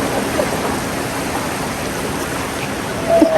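Sea waves wash steadily at Nagaon beach in Alibag, a continuous broadband surf rush heard close and fairly loud, with a brief swell near the end and no clear talk over it.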